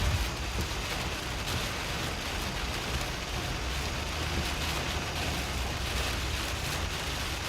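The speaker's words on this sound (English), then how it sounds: "That's what it looks like driving in a ton of rain in Mississippi." Heavy rain pounds down while a car drives through a severe storm in Mississippi, a dense, unbroken roar of water that stays loud and steady from start to finish with no voices.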